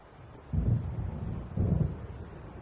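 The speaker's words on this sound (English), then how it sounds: "It seems there's a storm coming." Two deep, muffled rumbles of thunder from an approaching storm in Alan Wake, each swelling briefly about a second apart, low and distant under a quiet windy background.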